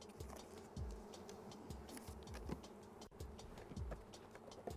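Honey bees from a package being installed into a wooden hive with a caged queen set between the frames; a steady, faint buzzing swarm close by, with individual bees repeatedly droning past the microphone.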